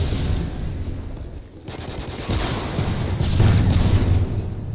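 Gunfire from a Call of Duty: Modern Warfare 3 Team Deathmatch match, a dense stretch of repeated shots and crackling bursts that holds steady and grows slightly louder toward the end, with no talk over it.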